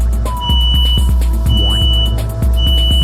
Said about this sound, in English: The audio-visual alarm system is also on.